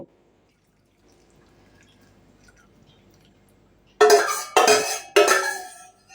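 Mango milk pudding poured into bowls: after a near-silent lead-in, three close bursts of thick liquid pouring and splashing follow one another, each lasting under a second.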